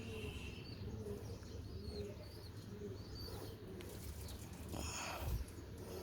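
Pigeons, including a black-faced teddy pigeon and a Dubai teddy hen, coo softly in a loft amid steady chirping and low background rumble, with a brief louder rustle near the end.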